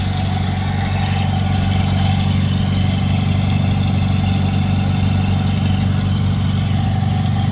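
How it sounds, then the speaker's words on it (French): The engine of a 1949 Packard Super 8 sedan idles in a steady, loud, close rumble that stays even from start to finish. "un moteur qui ronfle bien, qui tourne bien"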